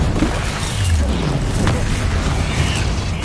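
A Bombarda spell blast in the Hogwarts Legacy game lands as a loud, dense rumbling burst that fills the whole moment, close and sustained, with no voice over it.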